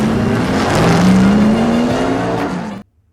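Race cars in a film car race scene, from the 2004 remake Taxi, roar past with a loud, rising engine whine that builds and then cuts off abruptly into silence.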